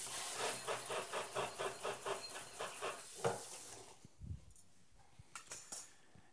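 Small utensils are rinsed under a running tap while making eggnog, a steady close rush of water with a rhythmic pulsing for about four seconds, then the flow cuts off, followed by a low thud and a few faint clinks, with no talking.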